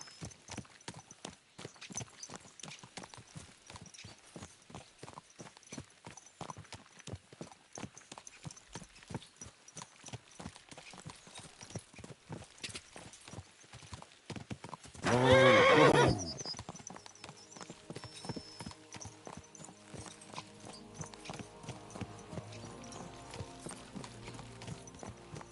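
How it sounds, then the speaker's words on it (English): Horses in Kingdom Come: Deliverance 2 gallop with a fast, steady clip-clop of hooves, and one gives a loud, close neigh midway before the hoofbeats carry on. "Let's really spur these horses on, eh?"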